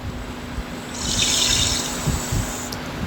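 A cup of water is poured into a pan to start a sugar syrup for jalebi, a short close gushing splash over a steady kitchen hum.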